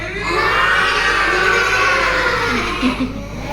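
A group of children imitates a buffalo's bellow together in a classroom, a long, loud, sustained chorus of drawn-out voices that holds steady, then tapers off into scattered vocal sounds.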